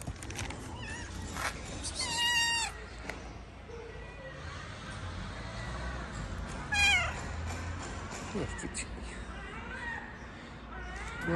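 A stray cat meows repeatedly and close, with cries around two seconds and again near seven seconds, while a person talks softly to it between the calls.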